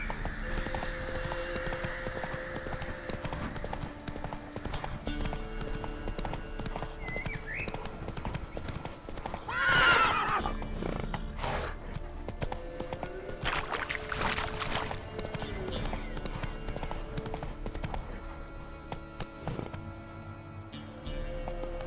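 Horse galloping in the video game The Witcher 3, a long run of steady hoof clip-clops with a whinny near the middle, fairly faint beneath ambient game sound.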